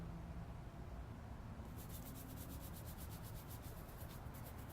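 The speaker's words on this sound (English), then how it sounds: "So I'm going to scrub my pumpkin." A pumpkin being scrubbed clean before carving: after a quiet start, fast regular rubbing strokes begin partway through and continue, fairly faint against low background noise.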